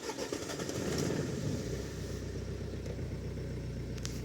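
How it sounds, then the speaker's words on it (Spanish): A Suzuki Grand Vitara engine turns over on a cold start, a loud broadband churn that settles into a steady, low idle rumble within a couple of seconds, with no talking. "Ese es el arranque en frío."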